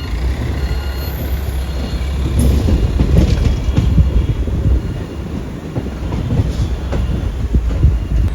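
Amritha Express passenger train rolling near Madurai station beside the Vaigai river: a loud, continuous rumble with rhythmic clickety-clack of wheels over rail joints, heard from on board, steady throughout.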